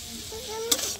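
Taro stems fried with dried fish stirring in a hot pan, low sizzle under a scrape of the spoon as lemon juice is sprinkled in, with a brief louder clatter near the end.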